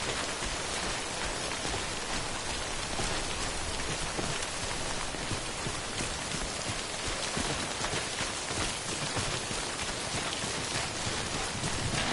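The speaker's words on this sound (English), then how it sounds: "Don't stay out in the rain any longer than you have to." Steady timefall rain pours across the landscape in the video game Death Stranding, a dense, even hiss of drops on surfaces lasting throughout, with no voices over it.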